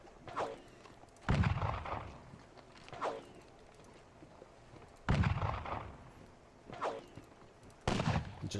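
Bursts of musket volleys and cannon fire from a Napoleonic Battle of Dennewitz war game crack out in several separate loud salvos, spaced a second or two apart, with softer shots in between.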